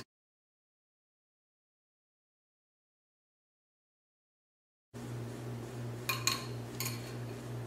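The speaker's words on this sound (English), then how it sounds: "just mix everything up together" Spoon clinks against a bowl while homemade face mask ingredients are mixed, a few light taps heard after a long stretch of silence, over a steady low hum.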